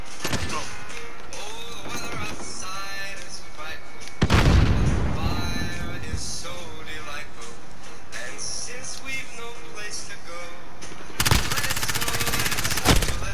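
Gunfire in Call of Duty: Modern Warfare, with loud bursts and booms of automatic weapons rattling through game audio, including a heavy blast partway in and another dense volley near the end.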